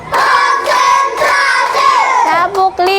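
Children clap their hands in unison during a classroom clapping game, sharp rhythmic claps mixed with loud children's voices chanting along.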